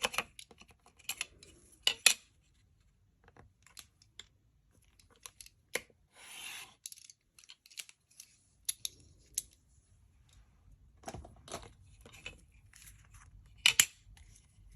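Paper is cut for card making with a trimmer or scissors, sharp sparse snips and slides scattered over quiet gaps, each brief and close, with faint handling rustles between.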